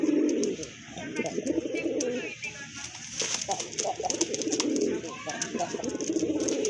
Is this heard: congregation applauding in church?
no